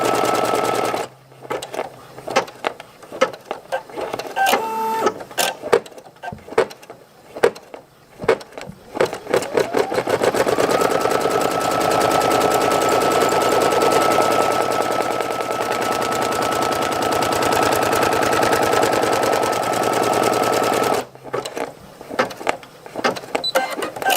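A Brother SE1900 embroidery machine sewing a placement stitch for a patch, heard close up as a rapid, loud needle chatter in stop-start bursts, then a long continuous run, with brief pauses between.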